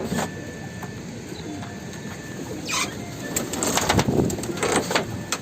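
Pigeons calling outdoors with soft coos and a few sharp chirps, over a steady low rumble of background noise, growing slightly louder toward the end.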